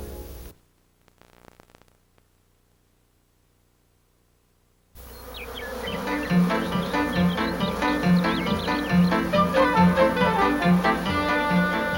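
Bees buzz as they fly, a steady, close, rhythmic hum that starts abruptly after a short quiet stretch and holds at an even level.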